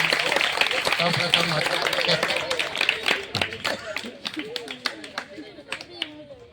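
Audience clapping breaks out at a teacher's farewell honour ceremony, a dense patter of many hands that thins into scattered individual claps toward the end, with a voice heard over it.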